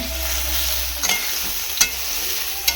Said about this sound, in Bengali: হালকা পরিমাণে ভেজে নেব